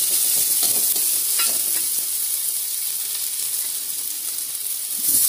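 Crab curry masala with tomato and garlic paste stirred as it fries in a wok, a loud steady sizzle with repeated scraping strokes of the spoon, close up and continuous.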